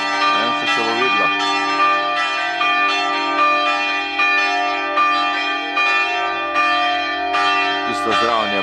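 Church bells ring at a monastery in northern Bosnia, their rich sustained tones overlapping in a steady pealing that carries on throughout with no talk.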